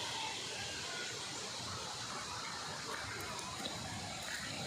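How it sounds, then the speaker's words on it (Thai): Rushing water from a waterfall in a bamboo forest mixed with large trees, a steady broadband roar that holds evenly throughout, moderately loud and continuous with no talk over it. "ได้ยินเสียงน้ำตกแล้วครับ"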